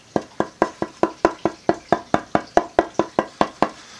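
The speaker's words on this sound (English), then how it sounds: "So when you go to the tap tone of these" Steady, evenly spaced knocks on a Sitka spruce tonewood board for an acoustic guitar top, about sixteen crisp resonant taps close up, with no talking.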